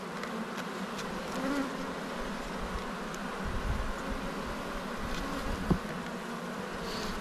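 Honey bees from a weak hive in an apiary buzz steadily at a low level, a soft continuous drone with occasional individual bees passing closer.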